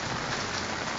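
Hail pelts a roof during a Philippine hailstorm in a dense, steady hiss of many small impacts, close and continuous for a brief moment.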